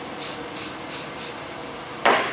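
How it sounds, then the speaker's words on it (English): Four short, evenly spaced hisses of an aerosol spray can applying protective coating to CNC tooling, followed by a louder, fuller burst of spray near the end. "just give it another light spray"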